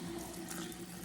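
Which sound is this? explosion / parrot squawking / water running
water running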